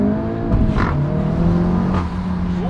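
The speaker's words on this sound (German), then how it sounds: "Hören wir mal Cupra." A Seat Leon Cupra 300 engine revs close by: a loud, steady drone with clear humming tones that rise and fall slightly as the throttle is worked, with no voices.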